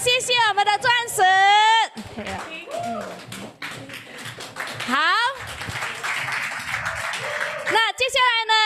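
Audience applause at an awards night for a business group, a burst of clapping in the middle under a presenter's amplified speech, with cheering voices around it.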